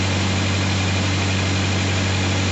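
A refrigeration unit's diesel engine on a trucking reefer trailer runs at a steady idle, a constant loud drone with a strong low hum and broad mechanical noise and no pauses.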